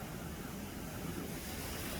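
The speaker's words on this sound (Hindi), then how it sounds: "ये देखे लहरें किस कदर तेज़ हो रही है।" Strong sea waves surge at Seaview beach in Karachi. A low, continuous wash of surf and wind rumbles close by for a couple of seconds, with no voices.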